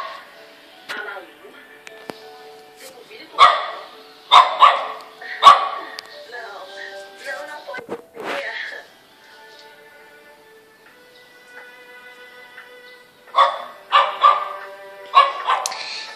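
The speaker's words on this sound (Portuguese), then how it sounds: "A cachorra do meu vizinho" A neighbor's female dog barks in several bursts of sharp, repeated barks, some near and loud, with quieter stretches between, while a person talks over parts of it in a residential area of Rio de Janeiro.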